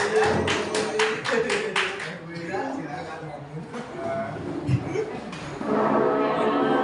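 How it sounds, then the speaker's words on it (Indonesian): An audience at a teachers' positive-culture dissemination session gives a short burst of hand clapping that quickly fades. Murmuring and talk follow. "Tepuk tangan untuk Bu Leni."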